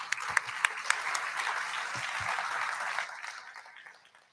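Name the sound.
audience applause welcoming panel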